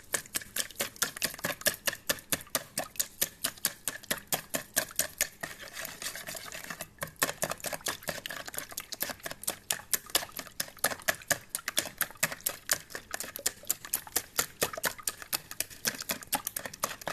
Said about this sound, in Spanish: batimos todo muy bien con una batidora o con las varillas de batir